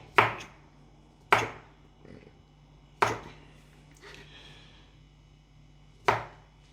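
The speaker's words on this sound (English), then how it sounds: "the mushrooms a tad, a little bit, because they're mostly chopped up already, so we don't need to chop them up that much" A knife chops mushrooms on a board for spaghetti bolognaise: four loud, crisp, separate chops, slow and unevenly spaced, close up.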